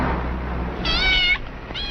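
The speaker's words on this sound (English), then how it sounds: "Your cat seems to have gotten itself locked out." A house cat meows insistently outside a locked-out door in an old 1951 film, two distinct high drawn-out meows over a low room hum, the second cut short.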